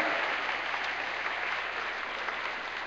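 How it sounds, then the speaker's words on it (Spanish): Continuous clapping fills a church as the congregation offers applause to the King, a dense, even roar of many hands that stays level and tapers only slightly toward the end. "Denle una ofrenda de palmas al Rey."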